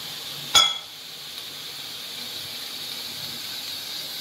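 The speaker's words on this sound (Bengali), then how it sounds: "হাই ফ্লেমে দিয়ে তবে এটাকে আমি কিন্তু একটু শুকনো খোলায় নাড়াচাড়া দিয়ে জলটাকে আমি শুকিয়ে ফেলতে হবে" Ghetkol (kharkol) leaf paste dry-frying in a dry pan over high flame while being stirred to cook off its water; a sharp sizzling burst at the start settles into a steady, soft hiss.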